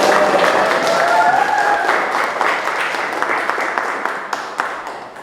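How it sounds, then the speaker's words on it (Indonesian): A class of students claps and applauds together after a school physics lesson on Pascal's law, a steady dense burst of many hands that starts loud and slowly thins out, with a few voices mixed in. "Keren, tepuk tangan."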